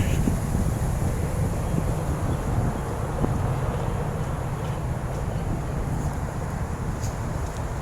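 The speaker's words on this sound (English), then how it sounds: "I think the wind is kicking up to 25 or so miles an hour" Strong wind of about 25 miles per hour gusting across a microphone on a downtown Grand Rapids street, a steady dense rumble and roar that holds throughout with no clear breaks.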